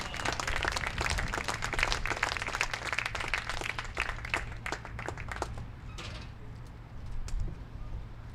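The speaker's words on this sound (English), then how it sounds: "Let's give him a round of applause." An awards-night crowd applauds the arrival of the Comets coach, a loose patter of scattered claps that thins toward the end, with a low hum beneath.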